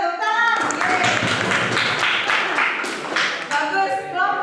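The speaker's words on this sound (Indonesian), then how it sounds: "tepuk tangan" Students in a classroom clap together, a burst of quick hand claps mixed with cheering voices that starts after a spoken prompt and fades back toward talk.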